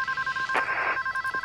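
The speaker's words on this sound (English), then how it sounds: "Let me answer the phone." Telephone ringing with a rapid electronic warble, steady and fairly loud, with a brief burst of other noise partway through and no talking.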